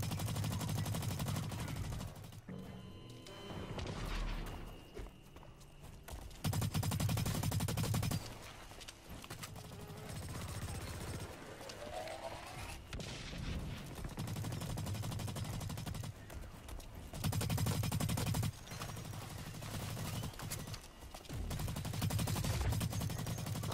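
Bursts of automatic gunfire from BlackLight Retribution online multiplayer on PS4, rapid rattling volleys broken by short pauses, loud and close, with no voices.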